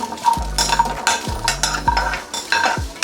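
Jackfruit seeds being dry roasted in a pan, with repeated scraping strokes of a spoon or spatula against the metal and rattling seeds, a few seconds of steady stirring.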